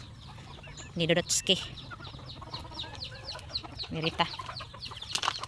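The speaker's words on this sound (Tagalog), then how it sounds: "Diri maning mga manok diri guys" Farm chickens, roosters among them, give short clucks and calls scattered through the clip, with a couple of louder close bursts over a steady low background hum. A person talks briefly in the background.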